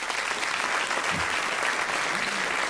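Steady audience applause from a crowd at a live stand-up comedy show, a dense, continuous wash of clapping that holds at even loudness throughout, with no voices standing out.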